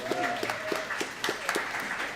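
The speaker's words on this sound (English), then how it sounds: "Give Aaliyah a round of applause." Light audience applause for a young track and field athlete, a few scattered hands clapping at a loose, steady pace, fairly close and modest in volume.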